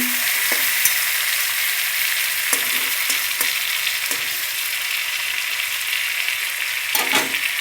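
Giant freshwater prawns frying alongside small onion fritters in a pan, a steady close oil sizzle with a few soft clicks and pops of stirring, no voices.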